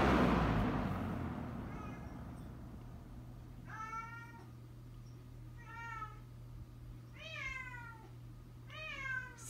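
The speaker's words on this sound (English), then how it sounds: "Excuse my cat in the background." A house cat meows four times in the background, each drawn-out and rising, spaced a couple of seconds apart over a steady low hum from a running box fan.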